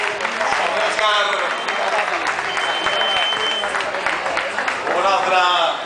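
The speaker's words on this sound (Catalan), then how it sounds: "Aplaudiments per ells, Carella." A crowd at the finish of the Costa de Barcelona-Maresme half marathon gives sustained applause and cheering for arriving runners, while a commentator speaks over the clapping throughout.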